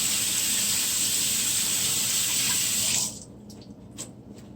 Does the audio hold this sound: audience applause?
no